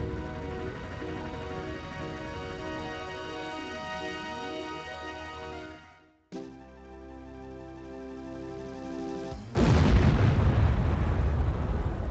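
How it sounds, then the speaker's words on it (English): An enormous explosion opens the video game Death Gate as an entire planet is blown apart: a sustained, droning rumble with layered tones cuts off briefly, swells again, then erupts into a loud, dense roar that holds steady to the end. "that's a pretty titanic explosion to start off a game with"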